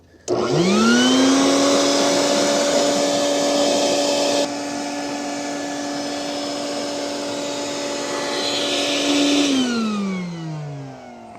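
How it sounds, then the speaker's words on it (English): A vacuum cleaner roars steadily for about ten seconds with a high, whining motor tone, then winds down as it switches off. "I'm just going to vacuum up this mess here"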